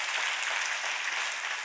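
An audience at a church gathering gives a brief, steady round of applause, thick continuous clapping with no pauses.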